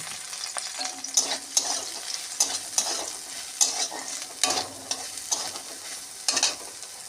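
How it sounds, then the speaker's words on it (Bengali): Boiled soybean chunks frying in a little oil with turmeric, a close steady sizzle with frequent rhythmic spatula stirs and scrapes throughout, no one speaking. "সোয়াবিনটা ভেজে নেব অল্প তেল দিয়ে। সিদ্ধ করা সোয়াবিনটা দিয়ে দিলাম।"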